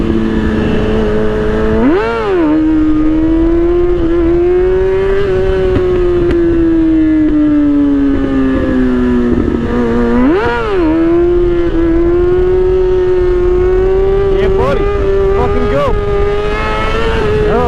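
Car engine revved hard at full throttle, a loud continuous drone that surges and dips in pitch, with sharp rises near the start and middle and a steady high-revving roar throughout.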